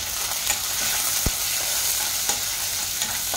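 Shrimp sautéing with onions in a hot pan, a steady close sizzle with occasional scrape and stir clicks of a utensil, no voices.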